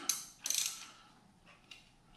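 A ratchet wrench turns a spark plug back into an engine's cylinder head, giving a few close, sharp clicking bursts with short pauses between them and no talking.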